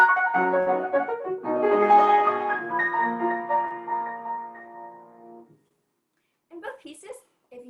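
Piano playing Chopin's Black Keys Etude: a fast, ringing flurry of notes that sustains and fades out, followed by a short pause and a brief bit of speech.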